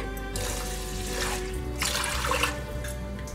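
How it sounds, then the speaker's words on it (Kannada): Water poured into a pressure cooker holding rice and moong dal for ven pongal, a steady close splashing trickle for a few seconds with no talk. "ಇವಾಗ ಇದಕ್ಕೆ ನೀರು ಹಾಕ್ಕೊಳ್ಳೋಣ"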